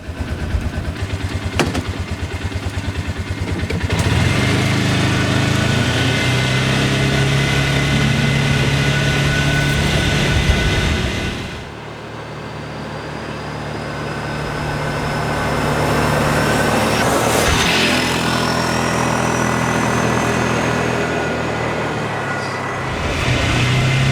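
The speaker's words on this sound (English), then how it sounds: "Step on the brake, start it up, you're ready to go. Let's go for a ride." A Bobcat 3400 4x4 utility vehicle's engine runs and drives in a loud, steady drone that drops briefly and shifts tone about halfway through, then builds again as the vehicle moves off.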